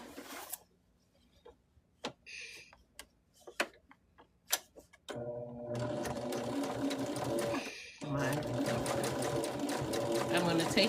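A home sewing machine stitches through the background fabric of a placemat, starting after a few sparse clicks and taps, then running in a steady, fairly loud whir with one brief pause before resuming.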